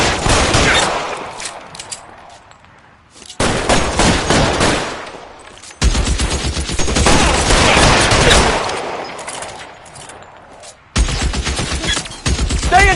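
Shootout gunfire in the video game LA Noire, loud bursts of rapid shots in several bouts separated by short silences, close and dense.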